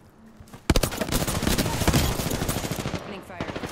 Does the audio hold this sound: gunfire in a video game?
yes